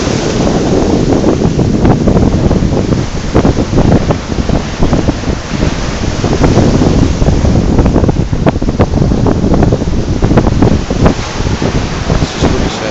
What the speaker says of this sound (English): The ocean is still not very calm.